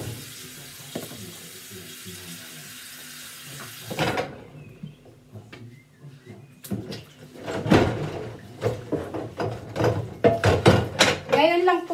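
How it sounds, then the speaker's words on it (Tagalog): Plates and dishes being washed in a sink after an evening meal for three, with running tap water, clinks of crockery and scrapes, while someone talks intermittently over the splashing. "Samahan niyo po akong maghugas ng pinggan."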